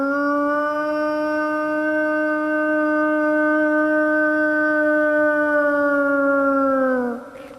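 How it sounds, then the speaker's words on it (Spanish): Single long wolf howl, loud and close, holding one sustained mournful tone for about seven seconds before dropping away at the end. "Es un aullido de peligro grande"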